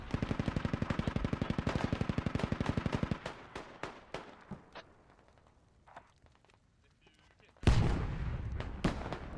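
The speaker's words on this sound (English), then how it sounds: "So we do have some arty coming in." Artillery and gunfire in a Squad battle between Ukrainian and Russian forces: a rapid, even string of loud shots at first, then scattered distant blasts and pops, and finally a heavy close explosion followed by a rumbling aftermath.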